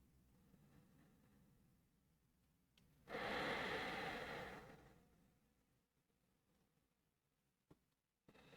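One long, soft exhale during yoga stretching rises and fades over a couple of seconds in an otherwise quiet room.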